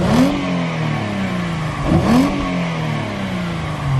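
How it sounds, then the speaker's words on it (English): A Mercedes E350 with a naturally aspirated V6 revs through its exhaust twice, each blip rising sharply and then settling back to a steady idle, heard up close with no talking. "we're gonna do a little exhaust clip on the E350 right now"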